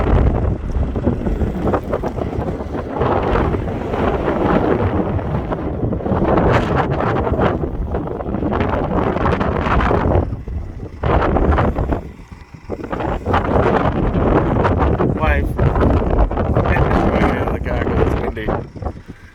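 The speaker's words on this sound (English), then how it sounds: "it might be a little bit hard to hear me with the wind. It's pretty windy up here" Heavy wind on sand dunes near Lancelin, Western Australia, buffets the microphone with constant roaring rumble for nearly the whole stretch, briefly easing once, while a voice talks underneath.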